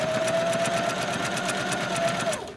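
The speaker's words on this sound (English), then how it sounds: "Now, sometimes I sew super slowly over the pins, and I am successful." A sewing machine stitches the back of a patchwork pillow with a fast, steady mechanical whir and rapid rhythmic needle clatter, close and alone, slowing to a stop at the end.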